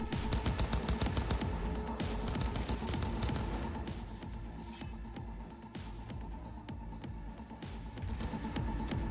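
Rapid gunfire in the video game Cyberpunk 2077, continuous bursts of automatic fire and crackling shots layered over a low rumble, loud and unbroken through the stretch.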